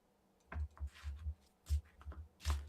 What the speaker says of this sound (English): going to shuffle this up.